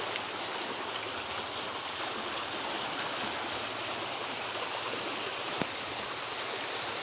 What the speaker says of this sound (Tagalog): Biglang lumakas ang tubig.